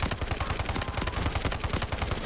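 Steady, rapid automatic gunfire in the shooter game Delta Force, a loud, close stream of evenly spaced shots with no pauses.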